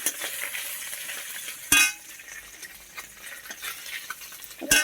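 Small fish fry together in a pan of hot oil, a continuous bright sizzle close by with occasional spoon scrapes and a couple of sharp metal clinks against the pan, no talking.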